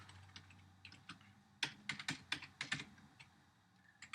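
Quick bursts of keystrokes on a computer keyboard while writing code, a few scattered taps then a rapid cluster of clicks before trailing off, close and fairly quiet.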